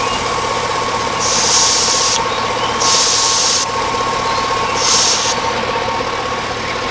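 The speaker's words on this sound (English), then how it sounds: "now I'm going to depress this little valve here because I have refrigerant in the yellow line" Three bursts of air and refrigerant hissing from an AC gauge hose valve as it is pressed, each lasting about a second, loud and broadband over a steady engine hum.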